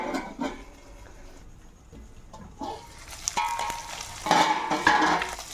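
Fish fries in a pan with a close, crackling sizzle that swells louder toward the end, mixed with scraping and stirring noises as pieces are turned.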